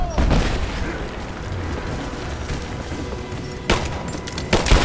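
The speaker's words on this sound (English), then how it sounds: "Open fire!" Sustained bursts of automatic gunfire from Rise of the Tomb Raider crackle continuously in a loud firefight, with heavier shots and impacts punching through near the end.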